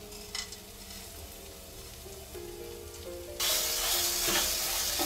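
Chukai fruit chutney with sugar is stirred in a pan, a low bubbling simmer with light scraping that gives way midway to a louder, dense rain-like sizzle; nobody talks.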